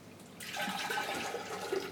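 Water gushes into large pots of zygo plants with a steady rushing splash. It starts abruptly after a quiet moment, then continues close and fairly loud for over a second, with no talking.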